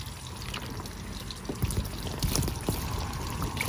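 Water splashes and pours over a Porsche Boxster 986 convertible fabric top, rinsing off cleaner in an uneven, close trickle with several brief louder gushes.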